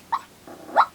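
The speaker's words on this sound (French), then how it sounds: "Mon chien rêve." A sleeping dog growls and whimpers softly while dreaming, two short muffled vocal bursts with a quieter murmur between, close by and alone.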